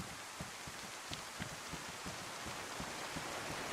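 Torrential rain in the game DayZ, a faint, even hiss of downpour with scattered soft drop taps, steady and distant with no voices.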